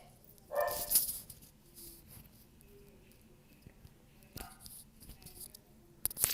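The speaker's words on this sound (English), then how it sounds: "My dog is barking." A dog barks in a few short, sharp bursts, the clearest near the start and a couple more later, heard at a modest distance through an otherwise quiet room.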